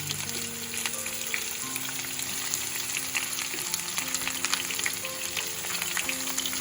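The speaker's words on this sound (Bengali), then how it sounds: "পেঁয়াজটাকে একটু ভাজা ভাজা করে নিতে হবে।" Onions fry in hot oil with whole garam masala and cardamom, a continuous, even sizzle with fine crackles, moderately loud and close, with no voices.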